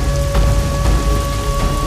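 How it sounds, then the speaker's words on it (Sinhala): Heavy rain pours down in a loud, continuous wash of noise that holds steady for the whole stretch, with no talking over it; no clear thunderclap stands out. "මේක නම් මහා අස්වාභාවික වැස්සක්"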